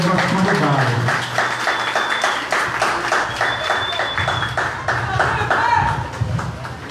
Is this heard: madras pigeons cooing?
no